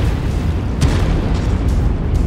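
Explosion of a destroyed target vehicle in a video game, a loud booming blast with a heavy low rumble sustained for a couple of seconds, with no talk.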